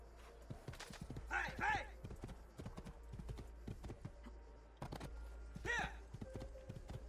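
Horse hooves clip-clop in Assassin's Creed II, a steady rhythmic trot of close, distinct hoof strikes with two brief neighs and light background ambience.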